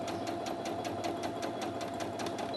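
A Brother A16 sewing machine stitches steadily at a comfortable set speed, its needle ticking in a fast, even rhythm over a constant motor hum, close and alone.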